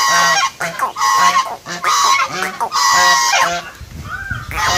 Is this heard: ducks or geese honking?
yes